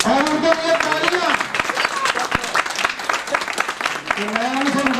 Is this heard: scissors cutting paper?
no